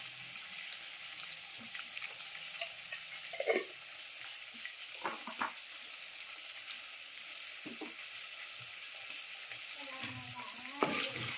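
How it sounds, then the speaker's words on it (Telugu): Pieces of drumstick and tempering seeds fry in hot oil with a continuous close sizzle, broken by a few sharp clatters of stirring and scraping against the pan. "ఫస్ట్ ఆయిల్లో ములక్కాయలు వేసుకున్నాను అనమాట"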